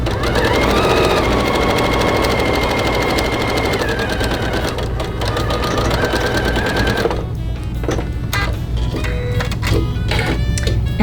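A sewing machine runs a continuous fast whirring stitch along a 1/4 inch quilt seam, loud and close, then shifts to a choppier, more broken run of stitching near the end.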